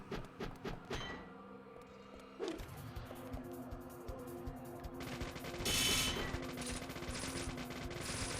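Rapid SMG gunfire in the video game Deadly Premonition on PS3, loud bursts of shots among crashes and other game effects, with no talking.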